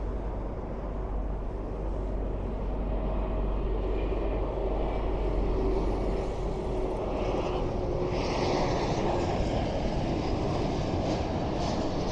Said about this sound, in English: Porter Airlines from Ottawa, E195.